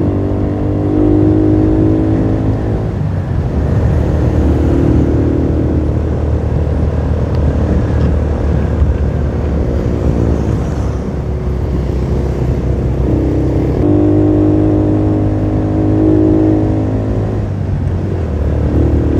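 Honda Chebee motorcycles riding along a road on a long trip, with a steady loud engine drone and harmonic whine that rises and falls as the riders accelerate and ease off.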